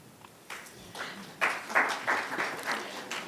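Luncheon guests at a Pasco Chamber of Commerce event applaud a candidate's speech, with scattered claps swelling into a moderate, sustained round of applause that holds steady to the end.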